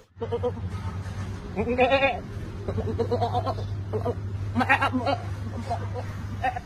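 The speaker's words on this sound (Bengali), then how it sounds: "আরে ভাই কাদের ছাগল ডাকছে" A large goat bleats several times in bursts, mixed with a steady low hum and background voices and chatter.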